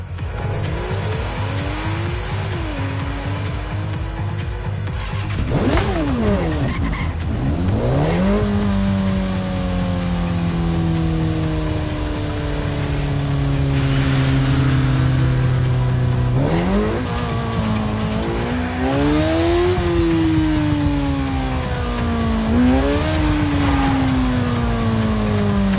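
Racing car engine in The Crew, revving loudly and continuously with repeated gear shifts, rising and falling pitch sweeps and tire squeal, sustained throughout at close range.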